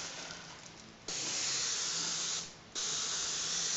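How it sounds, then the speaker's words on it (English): Airbrush spraying black paint onto a Boba Fett helmet dome, a steady close hiss in two sustained bursts with a brief softer dip between them. "I like to stick with a nice short burst and you get a nice even coverage."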